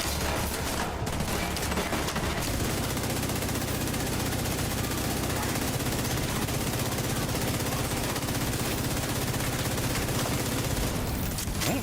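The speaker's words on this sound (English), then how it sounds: "So the light machine gun I'm using is called Pestilence, and it builds up those stacks of damage over time" Sustained rapid fire from the Pestilence light machine gun in a shooter video game, a dense loud stream of automatic bursts running the whole time with faint talk mixed underneath.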